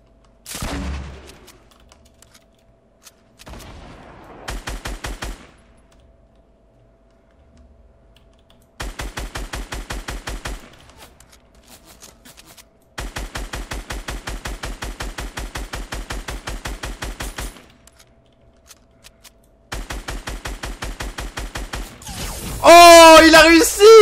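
Rapid automatic gunfire in Fortnite, several long sustained bursts of sharp, evenly spaced shots separated by quiet gaps, loud and close, with a voice briefly heard at the end.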